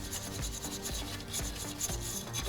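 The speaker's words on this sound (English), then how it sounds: "I will get an abrasive object to clean this off as well." Abrasive pad scrubbed back and forth over a front brake part of a 1995 Daihatsu Hijet S110P, giving a steady close rasping with a fresh stroke roughly every half second and no talking.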